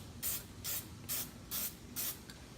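Aerosol can of pigmented wood touch-up toner sprayed in five short, even bursts of dry misting coats, each a crisp close hiss about a quarter second long with brief pauses between.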